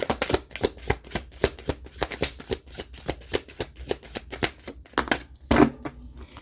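Tarot cards riffled and shuffled in a fast, even run of crisp paper flutters close by, then a brief louder slap as cards are drawn and laid down near the end, with no voices.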